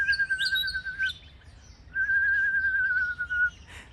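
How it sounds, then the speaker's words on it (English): Morning birds sing nearby in long, pure whistled notes that hold steady for over a second each, with two drawn-out phrases separated by a pause and scattered softer chirps around them, no voices. "These birds are making the most beautiful sound"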